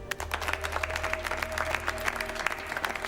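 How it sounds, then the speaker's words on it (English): A round of applause from a group in a Doctor Who episode, steady clapping over a low hum and faint tonal background sounds, moderately loud and continuous. "Give yourselves a round of applause"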